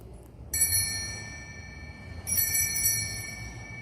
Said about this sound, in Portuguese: Esses são os sinos utilizados na celebração para que os fiéis se ponham em posição de adoração